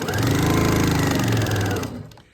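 A sewing machine runs steadily for about two seconds, stitching a small fabric piece onto a larger one along a quarter-inch seam for a quilt square, loud and close with a rapid even hum, then stops.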